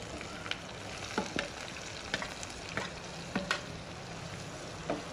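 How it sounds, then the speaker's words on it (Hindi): Finely chopped onion and cumin seeds fry quietly in oil in a kadhai, a low hissing sizzle with scattered light clicks and taps of a spatula; nobody speaks. "अब प्याज को हल्का सा गोल्डन ब्राउन कर लेते हैं, ताकि प्याज का कच्चापन खत्म हो जाए।"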